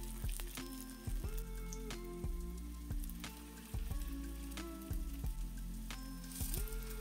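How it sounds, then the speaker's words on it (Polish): Steady crackling sizzle of potato pancake batter frying in hot fat, with soft thumps and clinks of a utensil at intervals, close and fairly quiet. "ciasto ziemniaczane kładziemy na rozgrzany tłuszcz"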